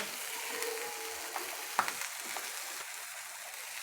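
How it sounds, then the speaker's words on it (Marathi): Chivai leafy greens tossed into onions, green chillies and chilli powder in a hot pan, giving a soft steady sizzle with a few faint spoon clicks as they are mixed. "आता त्यामध्येही चिवळीची भाजी घालू आपण मिक्स करून घेऊ व्यवस्थित"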